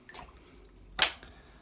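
Water squeezed from a syringe dripping into small pools on a palette for watercolour painting, a single close, soft splashy drip standing alone in a quiet room.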